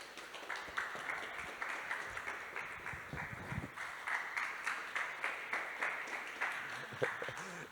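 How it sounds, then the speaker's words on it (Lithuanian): An audience at the SIELOS'24 festival's graphic art day applauds to welcome artist Kristina Krulienė onto the stage: steady, dense clapping from a crowd, fairly distant and even, running the whole time with a faint murmur underneath. "paprašysiu jūsų šiltai paploti, kad į sceną ateitų su jūsų aplodismentų palydima brangi ir gerbiama menininkė Kristina Krulienė"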